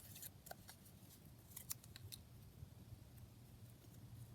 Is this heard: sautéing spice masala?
no